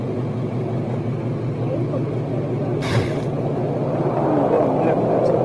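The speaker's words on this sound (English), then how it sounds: "So he's going over in front of the loud ass truck." A loud truck passes close by with a heavy, steady low engine rumble that swells slightly near the end, while people talk over it.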